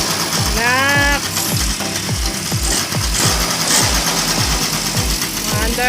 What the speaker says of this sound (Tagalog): Ayan po, ang Yamaha namin. Men 50cc, umaandar na.